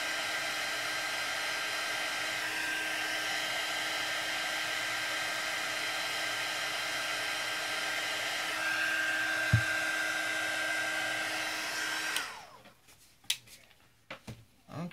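A heat gun blows a steady, loud whir while embossing on wood, holding one constant tone for about twelve seconds before switching off, followed by a few small knocks and handling sounds.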